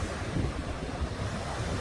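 Ocean surf rolling in along a clifftop coastline after big storm swells, a steady broadband roar of breaking waves mixed with wind buffeting the microphone, continuous and fairly loud with no voices.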